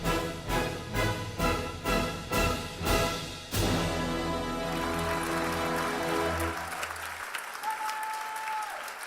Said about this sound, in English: I love the sound of applause